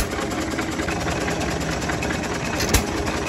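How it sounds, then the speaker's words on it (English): A pair of John Deere engines drive ice cream machines at an outdoor festival, giving a steady chugging idle that runs loud and continuous, with a single sharp knock near the end. "he confirmed that it definitely is a set of John Deere engines there on the two ice cream"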